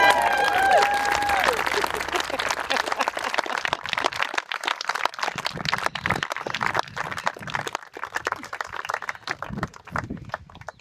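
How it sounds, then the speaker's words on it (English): Wedding guests applaud right after the bride and groom kiss at the ceremony, a loud burst of clapping and cheering that thins into scattered claps. "Round of applause."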